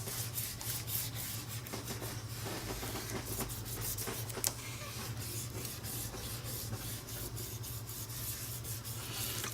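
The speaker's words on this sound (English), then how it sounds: "I'm going to just go ahead and burnish this on to make sure it's on good and tight." Paper being burnished onto the front of a handmade card with a tool, giving a close, steady dry rubbing and scratching that keeps going through the clip.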